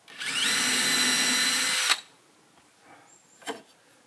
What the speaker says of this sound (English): And I'm drilling my pilot hole.